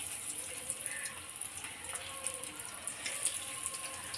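Beetroot pieces are dropped into hot oil in a pan and fry with a continuous bubbling, hissing sizzle, close and steady throughout, with no talk.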